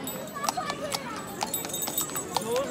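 Horse hooves clip-clop in a quick irregular rhythm during a horse ride in a hill-town market street, sharp clacks over a busy bustle of people talking nearby.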